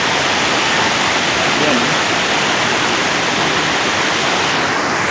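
Steady, loud rush of falling water fills the whole stretch, a constant broadband roar with no breaks.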